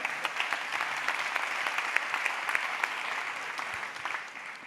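An audience applauding at a Festibity 20th anniversary event, steady crowd clapping with crisp individual claps standing out, sustained and fairly even before easing slightly at the end.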